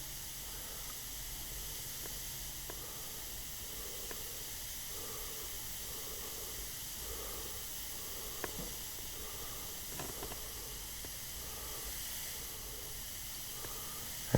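A fine-tipped micro airbrush sprays detail lines as a steady, soft, continuous hiss of air running throughout, with a few faint ticks and no talk.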